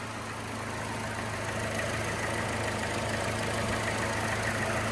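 A used car bought at a Carmax dealer auction idles steadily, its engine giving a continuous close, even hum with no talk over it.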